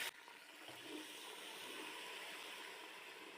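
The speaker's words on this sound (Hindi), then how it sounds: "पानी शामिल करेंगे।" Water poured into a pot while making beef biryani, a steady rushing pour that runs continuously and fairly loud for the whole stretch with no voices.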